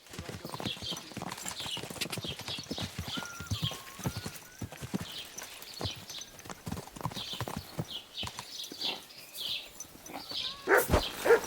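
Horse hooves clip-clop steadily in Kingdom Come: Deliverance 2, a near and busy rhythm, with a short neigh near the end.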